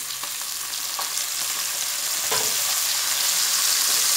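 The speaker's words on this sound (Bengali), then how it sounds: "আলুগুলোকে একটু ভালো করে ভেজে নেব।" Cut potatoes frying with onions in a pan, a steady close sizzle that grows a little louder, with faint stirring scrapes, no talking.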